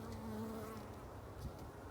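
A low, steady hum of many bees buzzing together at close range, with a few brief higher whines passing over the drone.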